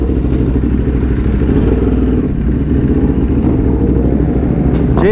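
Ducati Hypermotard motorcycle on the move, its engine putting out a loud continuous rumble with a rough, pulsing throb and road clatter, close and steady, with no one talking.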